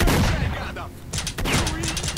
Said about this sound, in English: And you're already shooting.